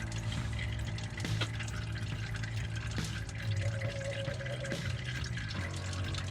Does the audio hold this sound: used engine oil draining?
yes